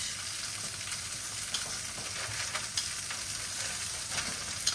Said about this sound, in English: And it'll continue to sizzle a little bit in here because the pan is still hot. It's a cast iron pan.